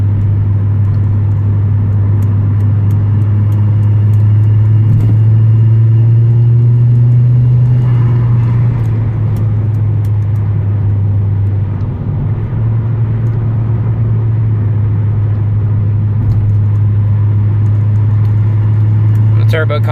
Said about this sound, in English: Turbo comes on, you can really hear it breathing now.